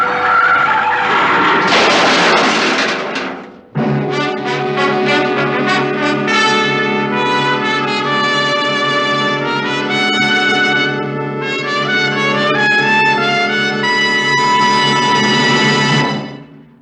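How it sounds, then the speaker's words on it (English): A car brakes hard and skids in a 1951 radio drama sound effect, a loud broadband screech for about three seconds that breaks off, followed by a swelling orchestral music sting. "I took my foot off the accelerator and then jammed down on the brakes as hard as I could."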